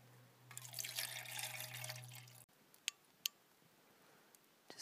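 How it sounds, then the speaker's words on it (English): Water pours into a pot outdoors at a winter campsite for a chaga hot drink, a faint steady splashing stream lasting about two seconds, followed by a few soft drips and quiet outdoor stillness. "Pour some water in there."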